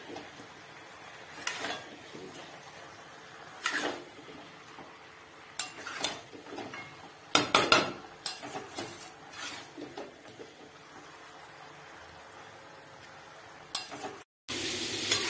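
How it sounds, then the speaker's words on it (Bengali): Chicken sautés in a pan as a spatula scrapes and clatters against the metal in irregular bursts over a low, steady sizzle. "একদিকে চিকেন কষা হচ্ছে"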